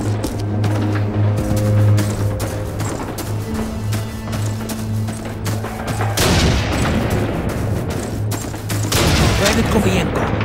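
Sniper gunfire and battle noise in Call of Duty, with scattered cracking shots and booms over a constant rumbling backdrop and a low hum, loud throughout, while a voice talks over part of it.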